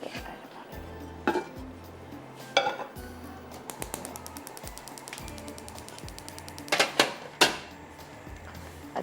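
Metal pan clanks and scrapes on a stovetop, several sharp knocks and rattles close by, with a low mechanical hum underneath.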